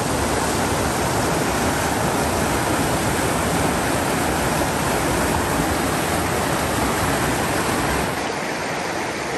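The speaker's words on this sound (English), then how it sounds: "Water flowing." A mountain stream in the San Juan wilderness of Colorado rushing steadily past, a loud, dense and unbroken wash of flowing water that eases slightly near the end.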